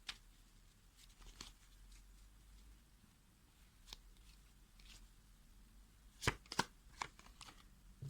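Tarot cards are shuffled in quiet, soft riffling and tapping bursts, close and faint, with a few sharper snaps near the end and no talk.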